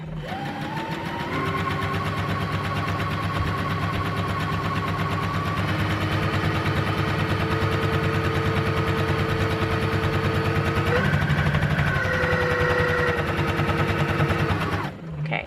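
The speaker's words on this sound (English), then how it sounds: "I will grab it to where I know it's all nice and straight and flat, and I will sew up to that point." A sewing machine runs steadily, stitching ribbon trim onto a tutu: a continuous mechanical whir that holds nearly fifteen seconds at close range, shifting pitch slightly as the speed changes, then stops at the very end.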